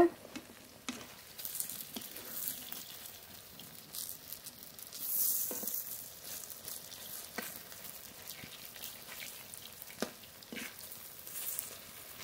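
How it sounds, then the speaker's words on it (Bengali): Ash gourd fritters fry in hot oil with a soft, steady sizzle and patter, punctuated by occasional louder crackles and splashes as they are turned, close and fairly quiet. "খুব ভালো করে এবার উল্টিয়ে পাল্টিয়ে ভেজে নেব।"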